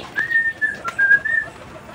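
Pigeons close by give soft, breathy coos in short rising-and-falling phrases, repeated a few times over a quiet background.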